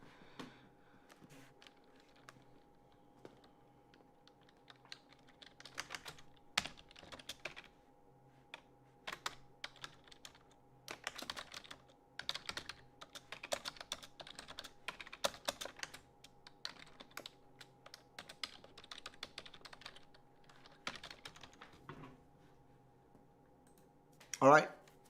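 Soft, irregular keyboard typing in bursts, clicking keys with short pauses between flurries, fairly quiet and close.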